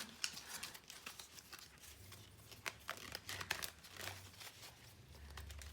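Rapid papery flicks and riffles of cards being shuffled close up, in short bursts with brief pauses, over a faint low hum.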